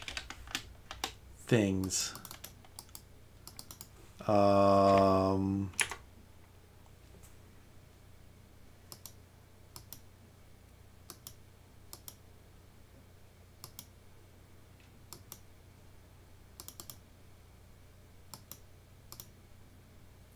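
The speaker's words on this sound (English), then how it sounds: "So I'm using a keyboard here" Sharp, scattered clicks of a computer keyboard being typed on during a rhythm RPG, fairly close and irregular, with a brief stretch of someone talking early on and quiet keystrokes continuing alone afterward.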